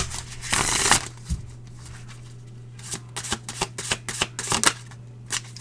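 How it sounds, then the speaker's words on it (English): A deck of cards is shuffled at close range during a tarot reading, with a riffle burst followed by a run of quick, crisp card flicks and taps. "Give me one more shuffle here for Scorpios."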